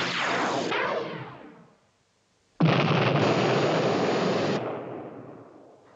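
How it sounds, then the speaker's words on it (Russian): In a cartoon, a heavy, rumbling blast roars and fades out, then after a brief silence a second loud explosion bursts in and rumbles on, broad and booming. "Это взрыв в той стороне"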